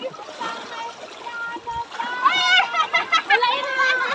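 Splashing as people wade across a cold river, with steady rushing water and close, irregular splashes under excited voices and child-like chatter.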